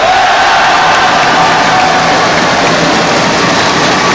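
A huge crowd roars and cheers at a badminton match in Kuala Lumpur, a dense, loud, continuous wash of voices and noise that stays level from start to finish.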